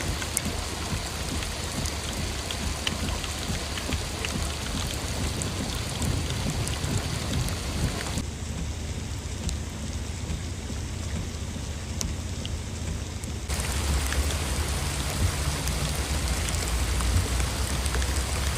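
Steady, heavy rain pours down continuously during a flash-flooding thunderstorm, a dense wash of drops with a low rumbling undertone, briefly quieter in the middle before returning to full strength.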